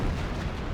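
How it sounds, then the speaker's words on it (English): On-map howitzer bombardment in a strategy war game gives a dense, continuous rumble of artillery booms, loud and steady through the short span. "on-map howitzer still bombarding everything"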